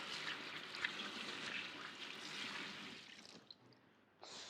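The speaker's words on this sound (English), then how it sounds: "let's give this a rinse" Running water pours steadily in a kitchen as something is rinsed, a broad continuous rush that tapers off near the end before a brief final burst of flow.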